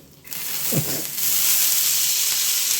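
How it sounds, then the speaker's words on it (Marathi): Green peas, young and tender, freshly washed and drained, hit hot oil in a pan and settle into a steady, close sizzle, with a brief stirring scrape near the start. "आता हे दाणे तेलावरती आणि याच्यावर व्यवस्थित परतून घेऊयात"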